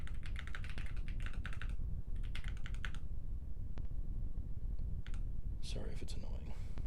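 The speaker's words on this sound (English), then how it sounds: "Can you guys hear my typing?" Fast computer keyboard typing in close bursts of rapid keystrokes with short pauses and scattered single clicks, heard over a constant background hum.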